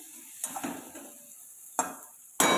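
Crushed garlic sizzling softly in a pan as a spoon stirs it, with quiet frying hiss under a few sharp scrapes and clinks of utensil on metal, close and without talk.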